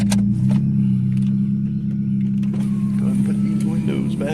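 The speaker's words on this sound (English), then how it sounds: "we're just gonna pull up here on this here gravel" A Volkswagen car rolls onto gravel with a steady, close engine hum throughout, joined near the end by faint crunching and mechanical clicks.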